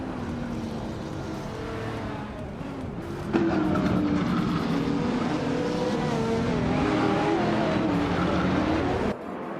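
Race cars in a racing video game roar steadily, then a sudden jump in loudness as engines accelerate, overlapping tones climbing and sliding in pitch before a brief drop near the end, with no talk.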